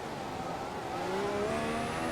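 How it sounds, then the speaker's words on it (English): A Formula 1 car in the F1 2014 racing game revs with a rising high-pitched engine whine that climbs steadily over a constant engine drone, moderately loud and with no talking. "You can hear Lewis revving up."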